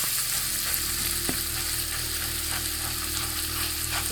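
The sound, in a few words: food frying in an oiled pan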